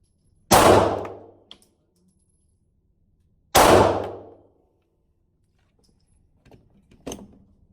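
Two loud, sharp pistol reports from a Stoeger STR9 9mm a few seconds apart, each ringing out briefly, followed later by fainter clicks and a small metallic tap.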